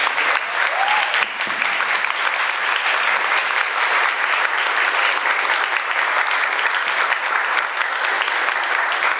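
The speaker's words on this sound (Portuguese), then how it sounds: "Uma salva de palmas." Audience at a São Paulo panel on rights of nature and climate claps steadily and loudly, a dense sustained wash of applause with no talk over it.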